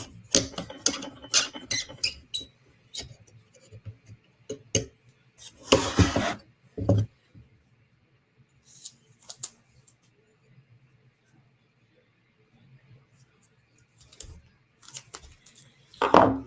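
Sharp slicing and scraping strokes come in bursts with quiet gaps between, a close knife blade from a Steel Will flipper or RMJ fixie working through material, with faint handling noises.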